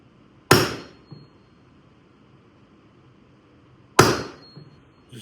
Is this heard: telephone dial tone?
no